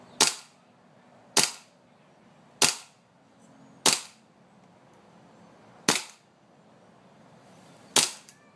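WE 1911 MEU airsoft gas pistol firing six sharp, loud cracks with slide recoil, spaced about one to two seconds apart, each with a brief snappy decay and nothing else in between.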